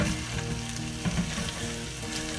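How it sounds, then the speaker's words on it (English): Bacon fries in a pan, a steady close crackling sizzle with dense spitting pops throughout and no voices. "I thought I would make my bacon in this pan and then cook my eggs in the bacon grease"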